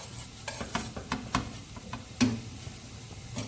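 Sofrito sizzles softly in a pan while a spoon stirs it with intermittent scraping clicks and taps. The sound is close, with a steady low frying hiss underneath.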